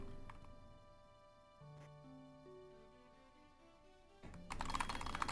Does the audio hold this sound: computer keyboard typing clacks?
yes